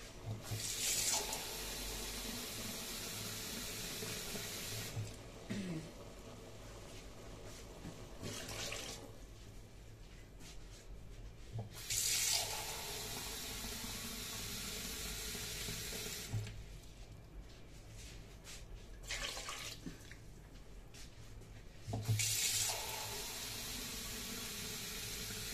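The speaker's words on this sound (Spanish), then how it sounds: "Bueno, voy a echarle ya el agua." Water poured from a tap into a pot of beef stew in a home kitchen, a steady hissing rush that starts and stops in several long bursts with short pauses between.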